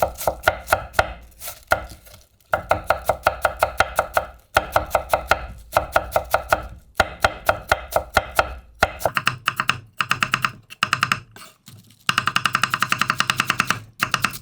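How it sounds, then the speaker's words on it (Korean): A knife thinly shreds winter cabbage on a cutting board in fast, even runs of crisp chopping taps, pausing briefly between bursts, close and loud. "그래서 양배추를 갖고 이거 채를 썰어야 돼요."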